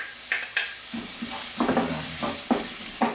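Cheongyang chili peppers stir-fry in soy sauce in a pan. Close sizzling runs under repeated scraping strokes of a utensil against the pan in a brisk, uneven rhythm.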